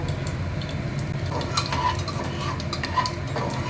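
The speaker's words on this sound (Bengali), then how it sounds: "অল্প কালো জিরে ফোড়ন দিলাম" Fenugreek and nigella seeds tempering in hot oil for a sweet pumpkin dish give a steady, dense sizzle with faint crackles and small metallic clinks, close and continuous with no talking.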